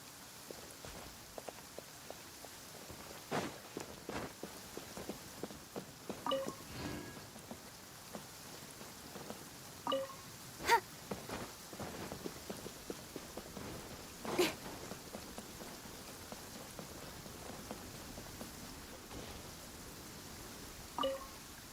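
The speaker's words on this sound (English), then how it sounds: "Quite a downpour." Heavy rain downpour in Genshin Impact, a steady wash of rain with scattered brief louder drops and thuds over about twenty seconds, moderately quiet, with no talk.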